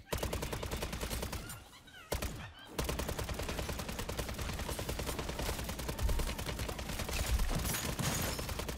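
Sustained rapid automatic fire in MW3 Zombies, dense continuous shots with one brief pause, loud and close over a busy game soundscape.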